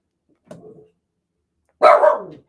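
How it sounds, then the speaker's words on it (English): A dog barks at home during a live hockey pregame talk show, a faint muffled woof followed by a louder, close single bark that trails off, with silence around them. "Okay, Ray, enough barking now, please."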